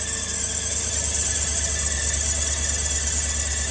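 A continuous high-pitched squeal from a failing power steering system on a 2011 or 2012 Chevrolet Tahoe as the wheel turns side to side, steady and loud over a low engine rumble, no talking.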